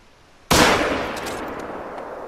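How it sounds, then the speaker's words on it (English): A single loud rifle shot fired at a caribou in theHunter: Call of the Wild video game, a sharp crack with a long rolling echo that decays slowly. "Gotta take a shot at this caribou running away from us."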